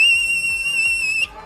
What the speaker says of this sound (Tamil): கேமராமேன் தம்பி விசில் அடிச்சான் பாரு